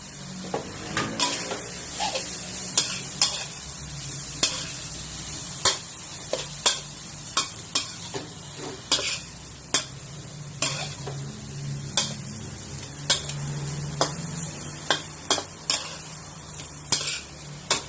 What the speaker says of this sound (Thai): ผัดกะเพราหมูสามชั้นใส่ผักรวมค่ะ